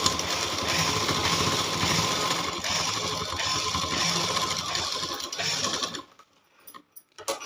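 A sewing machine stitches a zip onto a bridal lehenga blouse, giving a dense, steady whirring run for about six seconds before it stops and the room goes nearly quiet.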